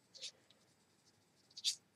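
A watercolor pencil colors on paper, giving two short scratchy strokes about a second and a half apart, soft and close with faint rustles between.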